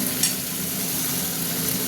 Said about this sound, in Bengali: পেঁয়াজটা ভাজা ভাজা হোক। এবার আমি টমেটো পেস্ট করেছিলাম ওটা দিয়ে দিলাম।